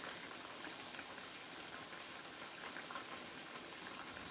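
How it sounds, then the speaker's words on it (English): Chicken frying in oil, a faint, steady sizzling crackle with soft random pops, continuous and alone. "I'm just here frying some chicken."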